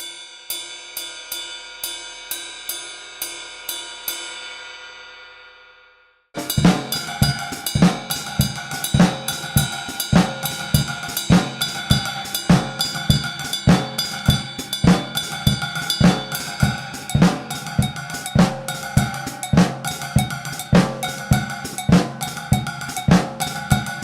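A drum kit groove built on a dotted-eighth, sixteenth, eighth-rest, eighth-note pattern, entering after a sparse ticking intro and then pounding steadily with kick, snare and cymbals in a repeating loop; loud and unaccompanied by speech.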